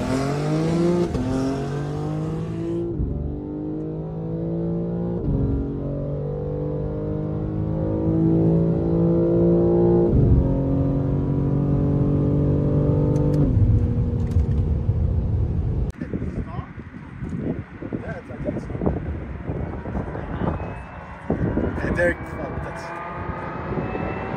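Cars rev and race past at a car meet, engines roaring loud and close with rising and falling pitch over about twenty seconds, crowd voices and shouting mixed underneath.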